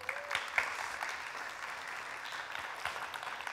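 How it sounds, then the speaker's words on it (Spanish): Faint applause from a congregation welcoming a family, a soft, steady patter of many hands with a few sharper claps near the start, heard from a distance. "Démosles un aplauso"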